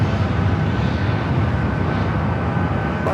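A Delta Boeing 757 takes off at Los Angeles airport with a steady, loud, broadband engine roar that holds constant throughout, without any speech.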